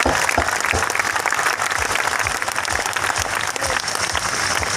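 A crowd at a company event for Glaze Trading India applauds its directors with loud, continuous, dense clapping that holds steady throughout.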